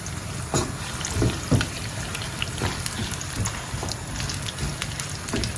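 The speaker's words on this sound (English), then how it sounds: "I'll go ahead and add my shredded onions. And then stir it in." Shredded onions hit hot oil in a pan for a Ghanaian aubergine abom, giving a steady, dense crackling sizzle like heavy rain, with a few louder pops and stirring knocks, close and continuous.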